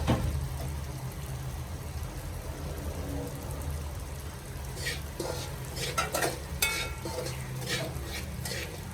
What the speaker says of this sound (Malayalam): ഓരോന്നായിട്ട് വറുത്തെടുക്കാം.